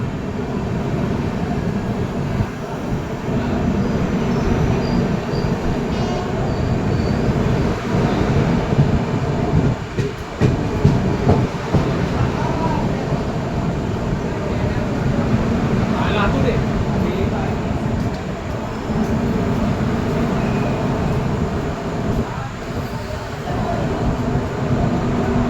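Duronto Express on the Mumbai–Howrah route rumbling past as a steady, loud, continuous roar of wheels and carriages, with a platform announcement and voices audible beneath the train noise.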